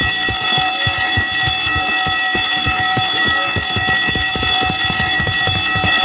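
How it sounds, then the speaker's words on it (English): Fire alarm ringing inside an office building, a loud continuous electronic bell with rapid repeating strikes that persists unbroken and close throughout. "Fire alarm again?"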